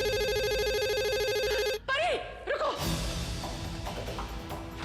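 A telephone rings with a repeating electronic trill in an indoor household scene, the ring cutting off abruptly, followed by brief swooping musical tones and dramatic background score.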